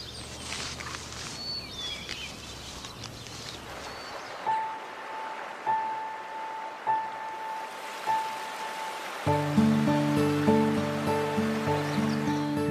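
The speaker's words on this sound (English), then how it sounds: "Water flows again at last. Spring has come to the upper Mississippi." Spring river water flows on the upper Mississippi, a steady broadband rush that continues while music with sustained tones and then rhythmic chords enters over it.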